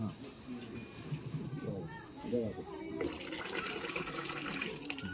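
Leafy vegetables are swished and rinsed in water, sloshing close by, then running water grows louder and steady, while people talk in a home kitchen during preparation of Khandeshi dal gandori.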